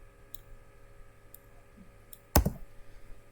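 A single sharp key press on a computer keyboard while working in motion-tracking compositing software, close and crisp, followed by a few faint ticks over a steady low background hum, with no talking.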